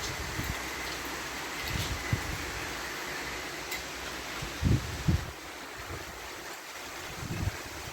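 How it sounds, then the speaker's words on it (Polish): Strong wind rising and rushing steadily through forest trees after rain, a broad continuous roar with a few gusty thumps against the microphone. "Ty, ale jaki wiatr się zerwał."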